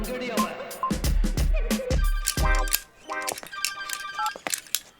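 A telephone being dialed during a tense police-station exchange over stolen goods: rapid clicks and short electronic tones in quick runs, close and fairly loud, with brief voices and background noise mixed in.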